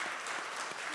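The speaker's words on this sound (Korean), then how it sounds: "우리 박수 한번 의뢰하시겠습니다." A church congregation applauding at a Sunday worship service, dense steady clapping filling the whole short moment at moderate level.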